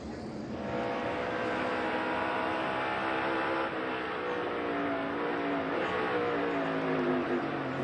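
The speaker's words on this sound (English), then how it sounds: "You can hear him on the brakes, start downshifting to make sure he can get the car slowed down." A NASCAR race car at the 2022 Coca-Cola 600 braking hard and downshifting, its engine note dropping through loud, steady stepped harmonics over about eight seconds of continuous roar with no talk.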